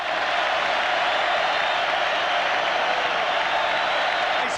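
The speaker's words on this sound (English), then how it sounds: "Some of the crowd chanting." A baseball stadium crowd during a Dodgers game fills the air with a steady, dense roar of massed voices and cheering, continuous and loud throughout without any single voice standing out.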